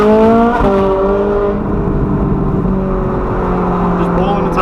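Rear-wheel-drive car revving hard in a steady, loud drone with rising harmonics as the tires spin, heard close from inside the cabin.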